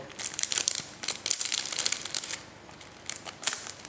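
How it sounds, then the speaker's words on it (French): An iPhone screen protector package is unwrapped up close: loud, irregular plastic crinkling and crackling in quick bursts, with a brief pause before more rustling, and no talk. "Donc je vais déjà déballer ma protection."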